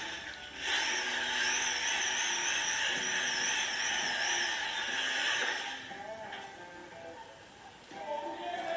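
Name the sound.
power drill drilling into wall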